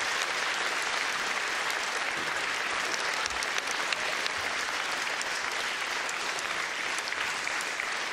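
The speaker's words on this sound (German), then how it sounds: "Lara, das ist dein Applaus." A schlager show audience claps in a long, dense and steady burst of applause, sustained throughout at an even level with no voices on top.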